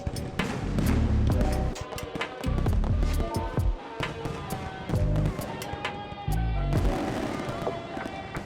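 Fireworks show over Waikiki Beach, Honolulu, put on by the Hilton Hotel: a steady run of sharp cracks and thumping booms, loud and dense with bursts layered over each other, continuing through the whole stretch.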